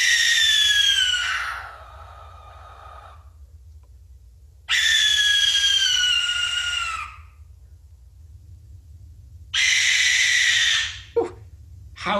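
A pale barn owl at night gives three long, harsh, hissing screeches, each lasting a couple of seconds and separated by pauses, loud and close, with no voices present.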